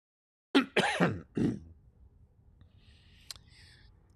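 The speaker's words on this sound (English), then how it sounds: "Let me clear my throat" A single person clears their throat in a quiet room before a morning news and weather segment, with two or three rough, close bursts followed by a faint click and near silence.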